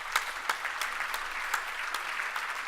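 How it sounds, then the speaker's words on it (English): Audience at a mental health cultural competency summit opening giving a round of applause, steady, fairly faint clapping from a roomful of people with a few sharper claps standing out. "we want to give them a round of applause for making this possible"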